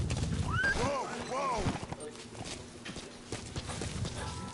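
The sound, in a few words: horse hooves clip-clopping in a Metal Gear video game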